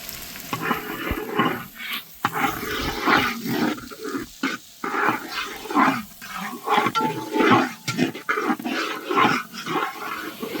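Two large chopped onions fry in oil over medium heat for a Mangalore-style ghee vegetable roast gravy, a loud, close sizzle that surges and dips as they are stirred.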